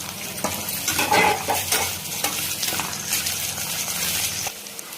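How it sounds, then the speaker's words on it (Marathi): Curry leaves and finely chopped green chillies crackle and spit in hot oil after onions, a dense close sizzle with quick stirring scrapes that eases off near the end, no speech. "कांद्याच्या नंतर टाकायचा कढीपत्ता आणि हिरवी मिरची एक चार हिरवी मिरची आहेत बारीक कट करून घेतलेल्या ती पण टाकते"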